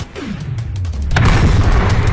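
A cannon fires a ball with a heavy, close boom that swells into a loud, sustained rumble and roar lasting about a second, with no talk over it.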